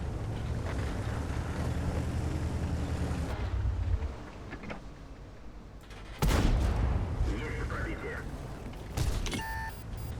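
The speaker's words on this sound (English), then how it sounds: "Going to this one more blind shot" Tank cannon fire in World of Tanks, a K-91 or Object 430 Version II match, with one sudden loud boom partway through over a steady rumble of engine and ambient battle noise.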